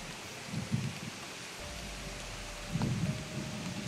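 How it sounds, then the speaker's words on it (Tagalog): Heavy rain pours in a steady broadband hiss, with low rumbles and a couple of louder bursts, no one speaking. "Malakas yung ulan talaga"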